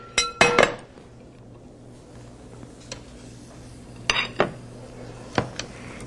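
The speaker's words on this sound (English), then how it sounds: "I'm just going to take the lid off and immediately place the trout in." A lid comes off a hot smoking pan and a trout goes in, with sharp metallic clanks and clinks of lid and pan in several clusters over a quiet background.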